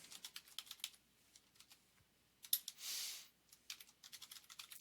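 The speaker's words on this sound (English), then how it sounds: "I'm going to type them and then come back and add the quotation marks later" Rapid bursts of typing on a computer keyboard, clustered key clicks with short pauses and one brief louder hiss in the middle, close and fairly quiet with no speech.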